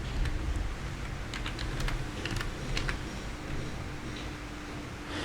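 Fingers type on a computer keyboard in a rapid, uneven run of close, crisp key clicks, alone with no talk.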